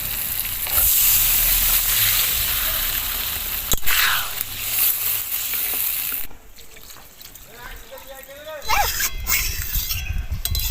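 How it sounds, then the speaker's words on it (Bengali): Catfish (magur) curry with small mangoes and water boils hard in a pan over a village-style fire: a loud, dense sizzling hiss that drops to a quieter bubble partway through, with a brief voice near the end. "এবার আমি ঝোলটাকে কিছুক্ষণ খুব ভালো করে ফুটিয়ে নেব।"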